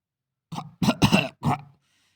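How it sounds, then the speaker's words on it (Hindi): Four harsh, barking whooping-cough coughs in quick succession, close and loud, with a short gap before the last one, then silence. "इस रोग में इंसान को कुकर की भौंक जैसी खांसी लगती है।"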